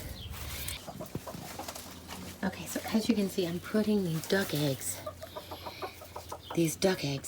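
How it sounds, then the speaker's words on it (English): A brown Cornish hen clucks in a series of close, repeated calls while a person talks over it, with a low hum running underneath. "This is the brown Cornish hen."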